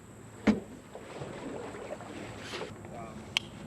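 A homemade yard-built jet boat runs on open water with a steady, low, washy rumble and some wind noise. A couple of brief knocks break through, and there is no clear talk.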